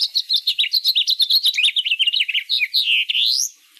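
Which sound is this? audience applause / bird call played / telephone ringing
bird call played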